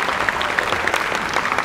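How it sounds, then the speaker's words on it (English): A burst of audience applause at a concert in the Esplanade Recital Studio, full and continuous crowd clapping at steady loudness over a short stretch. "Let's give another round of applause."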